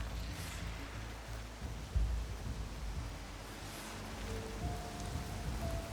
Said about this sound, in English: So we're getting fierce wind, fierce rain.